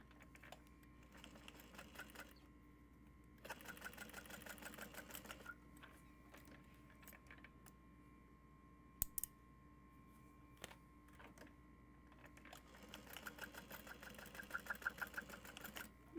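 A sewing machine runs in faint, steady bursts as it stitches a 3/8 inch seam on a medium tote bag, stopping and restarting several times.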